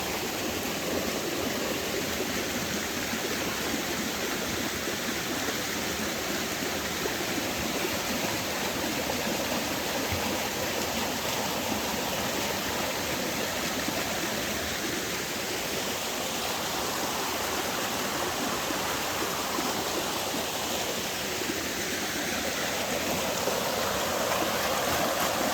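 A rocky stream rushes along the Roaring Fork Motor Nature Trail near Gatlinburg, Tennessee, with water from two channels merging; the steady, full, close roar of water over stones runs unbroken throughout, with no voices.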